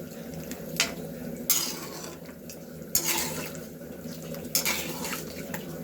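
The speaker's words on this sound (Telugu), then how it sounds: "ఇప్పుడు మటన్ వేసాక ఆయిల్లో బాగా కలబెట్టాలి." Mutton chops stirred in hot oil in a pan for a mutton fry, a metal spoon clanking against the pan in several sharp hits over a steady low sizzle, close and fairly loud with no talking.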